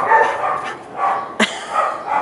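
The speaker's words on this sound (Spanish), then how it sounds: "ahí se oyen los perritos ladrando" Small dogs bark and yip indoors in short bursts, with one sharp bark standing out, the sound close and moderately loud.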